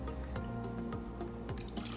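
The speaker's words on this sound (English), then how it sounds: "What I'm gonna do is start out with just some coconut water. I usually do about a half a cup." Coconut water, about half a cup, pouring steadily into a container for a smoothie, a continuous close liquid trickle with small drips for two seconds and no talk.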